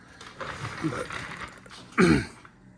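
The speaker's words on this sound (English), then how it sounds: "so now we can unclamp it actually" A metal clamp is loosened and released from a welded fender and sill on a 1958 Triumph TR3 during restoration, giving a few clicking, ratcheting mechanical sounds that end in one sharper clunk near the close.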